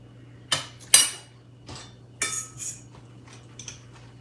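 A spoon spreads flour into melted butter in a pan for tomato gravy, giving a few separate clinks and scrapes of metal against the pan, spaced over a few seconds, close and fairly quiet with no talking.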